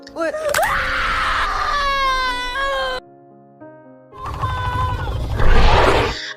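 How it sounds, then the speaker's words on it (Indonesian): A woman in a film, in a scene about a crashed alien found in the desert, screams in pain after a finger is broken, long loud wailing cries broken by a brief pause. "Dia berteriak begitu keras"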